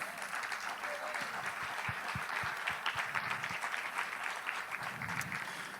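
Applause from an audience at a Spanish-language church gathering forms a steady, moderately distant clapping texture, with a few sharper individual claps and faint low voices beneath.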